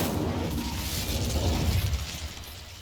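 An Incendio fire spell goes off in Hogwarts Legacy as a sustained roaring, crackling whoosh with heavy low rumble, loud and steady for nearly three seconds with no voice.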